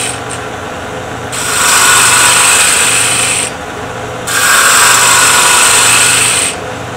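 Wooden screwdriver handle spinning on a lathe while being cut, giving a loud high whirring and scraping hiss in two sustained passes with short quieter gaps between them, over a steady motor hum.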